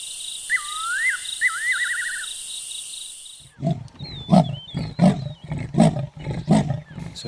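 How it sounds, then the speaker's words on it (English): Two mating leopards growl and roar from dense guarri bushes on a safari game drive, a run of rhythmic rasping growls after a stretch of insect and bird calls, fairly close and loud. "there's 2 mating leopards. We get a brief flash of a tail and we can hear the growling"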